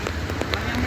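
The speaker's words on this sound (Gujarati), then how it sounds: "આ જોઈ લે જંગલમાંથી વરસાદ આવે છે" Heavy rain pours down at Damodar Kund below Girnar in Junagadh, a dense steady hiss of water close by with a voice faintly underneath.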